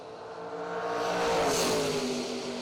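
A green Camaro drag racing car launching at a drag strip, its engine swelling into a loud rising roar that peaks midway and holds, heard from a moderate distance with no talking.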